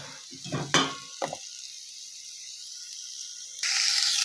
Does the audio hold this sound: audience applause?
no